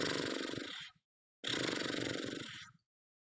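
A person imitates a cat purring with two breathy, rattling bursts, each about a second long, separated by a short pause and heard up close.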